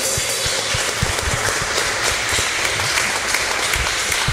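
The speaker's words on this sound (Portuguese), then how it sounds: "E aplauda a Deus. Aplauda com força" Church congregation applauding God at a Catholic preaching service, a steady dense wash of clapping held at an even level throughout, with scattered sharper hand claps standing out.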